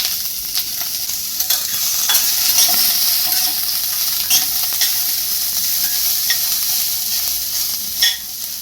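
Onion, ginger and garlic frying in a pan, a loud close sizzle kept up throughout with repeated scraping stirs and clacks of a spatula, no voices.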